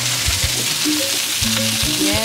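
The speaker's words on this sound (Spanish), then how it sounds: "Bien, empezamos el sofrito entonces." Onion and rocoto pepper sofrito fries loudly in a pan, a dense close sizzle with short scraping stirs throughout.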